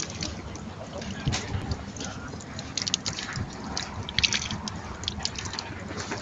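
Running water pours over a small bird as it is washed in cold water, a steady splashing rush that holds for about six seconds with small uneven surges.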